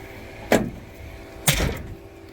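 Two solid door closes on a 1982 Ford Ranger EV, about a second apart, each a sharp nearby thud with a short rattling tail.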